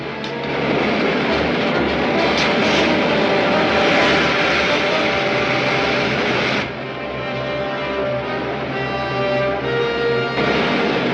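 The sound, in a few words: rocket main jets firing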